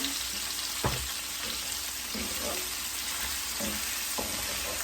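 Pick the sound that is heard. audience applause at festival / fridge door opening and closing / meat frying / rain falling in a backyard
meat frying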